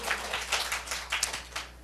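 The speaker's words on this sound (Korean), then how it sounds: "우리는 그렇게 하실 하나님께 그냥 박수 많이 드립니다." A church congregation at a Korean morning worship service claps together in short, uneven bursts of many hands, moderately loud and brief, with no talking over it.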